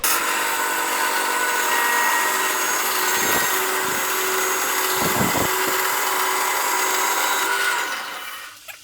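A loud, steady mechanical whine of a band sawmill cutting through a log runs throughout, with a few low thumps midway, winding down at the end.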